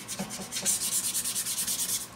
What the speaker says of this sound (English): So I'm sanding it.